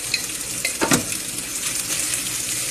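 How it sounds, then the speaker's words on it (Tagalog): A utensil stirring boiled pasta with tomatoes in a pan, soft scraping and sizzling with a couple of clinks, close and alone. "Halo-haloin lang po siya"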